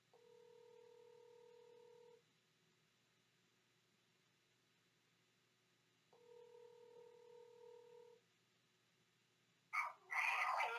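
A telephone rings back on a call with two long, steady tones separated by a pause, quiet over a soft background hiss, followed by a brief louder burst at the end.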